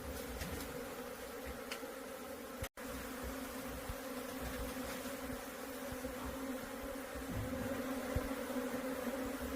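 Native honeybees nesting inside a house fill the space with a steady, dense buzzing drone, close and continuous for the whole stretch, with a brief dropout partway through and no talking.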